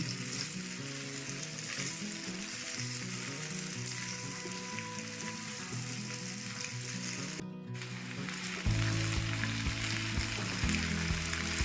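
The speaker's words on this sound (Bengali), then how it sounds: "পেঁয়াজ রসুনের সাথে আলু সিদ্ধটা একটু ভাজা ভাজা করে নেব।" Boiled potatoes fry with onion and garlic in a pan, a steady sizzle running throughout with a brief gap, then a louder, fuller frying sound toward the end.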